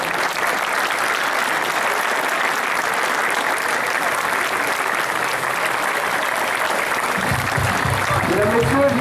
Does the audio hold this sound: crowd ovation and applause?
yes